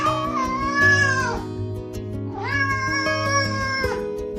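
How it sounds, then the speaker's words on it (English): Two long, loud cat meows close by, each drawn out over a second with a rising, wavering pitch, separated by a short pause. "meowed as loud as his little lungs could manage"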